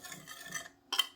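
Crêpe batter ingredients stirred in a bowl, a soft scraping swirl followed by two brief, sharper utensil knocks against the bowl.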